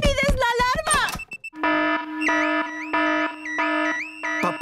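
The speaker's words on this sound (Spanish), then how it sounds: "Papá Cerdito encendió la alarma! El ruido despertó a todo el vecindario." A cartoon car alarm blares in a repeating pattern of loud electronic wailing tones, preceded by a brief burst of lively animated voices.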